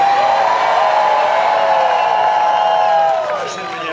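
A big campaign rally crowd in North Carolina roars and cheers steadily and loudly throughout, with whoops rising above a dense wall of voices that eases slightly toward the end.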